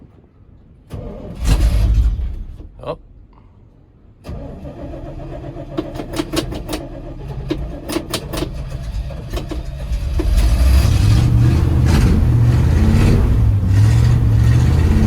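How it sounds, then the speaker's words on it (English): A pickup truck engine with a weak battery cranks with help from a charger pack, catches and starts, then settles into a loud steady idle that rises toward the end, with a brief exclamation early on. "Battery didn't want to crank the truck over good enough, so we're going to try the charger on it"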